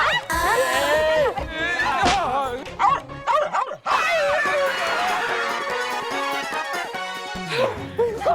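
A dog yips and barks in short bursts mixed with whimpers, close by, while people talk over it in a household setting.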